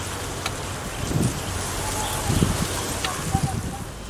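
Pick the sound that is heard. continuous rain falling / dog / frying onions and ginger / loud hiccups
continuous rain falling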